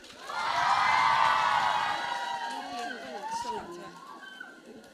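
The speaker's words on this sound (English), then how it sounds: "Let's cheer for her again." School audience cheering and whooping for a teacher walking on stage, a loud swell of shouts and children's voices that peaks early and then thins into scattered calls and chatter.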